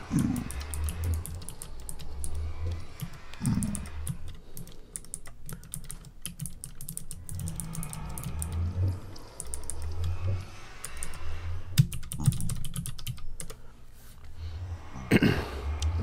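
Fast clattering keystrokes on a computer keyboard during a Minecraft session, with dense bursts of typing broken by short pauses over a low background rumble.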